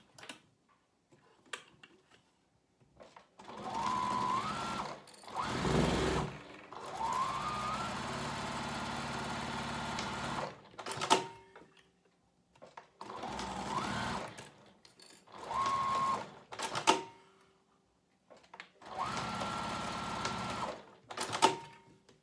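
Sewing machine stitching the lining seam of a foldover pouch in several short bursts separated by quiet pauses, each run a steady mechanical whir.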